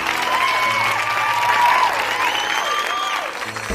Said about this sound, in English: Let's give them a warm of applause.